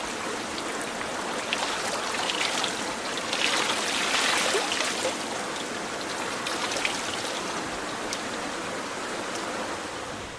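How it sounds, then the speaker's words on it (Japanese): Water spills from a water wheel as a continuous splashing, trickling rush, steady and fairly close, with a brief swell in intensity midway and no voices. "水車から落ちる水音を取りました。"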